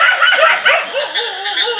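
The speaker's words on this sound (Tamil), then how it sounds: "நாய் வர கத்த ஆரம்பிக்குது இந்த மரத்துக்கிட்ட." A dog near a tree at night gives a loud, close, wavering yelping cry that rises and falls continuously for under two seconds.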